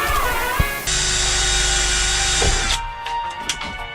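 A power drill bores a pilot hole during work on a twin-turbo Winnebago, a loud steady whine for about two seconds close by, then it stops with a few clicks and knocks after.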